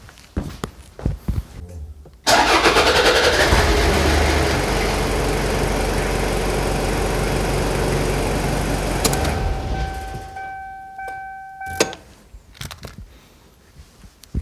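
A Toyota Hilux Surf KZN185 with a 1KZ-TE diesel, just after an oil change, cranks and catches abruptly, then runs loud and steady at idle for several seconds before cutting off, with footsteps and light clanks nearby.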